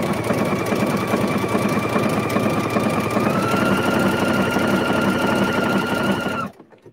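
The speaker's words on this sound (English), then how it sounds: "moved my needle over to the right. And did the blanket stitch." A sewing machine fitted with a circular attachment runs a blanket stitch, a steady loud mechanical whir with a rapid regular needle rhythm that shifts slightly in pitch midway, then stops abruptly near the end.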